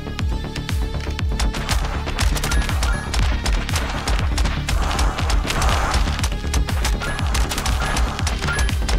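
Tiny turret guns in a frantic bunny survival shooter game firing in a continuous rapid barrage, dense loud volleys of shots with crashing impacts packed together without pause for the whole stretch.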